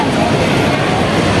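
An MRT train passing overhead, heard from below as a loud, steady, continuous rumble that fills the whole moment.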